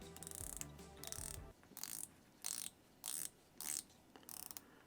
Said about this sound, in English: Very distinct clicks. Feels very good when you're turning it